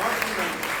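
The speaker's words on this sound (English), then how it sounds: "Give a big round of applause for all of them." A crowd applauds at an evening Bhagavata-saptaha katha gathering, steady dense clapping filling the short moment with no voice standing out.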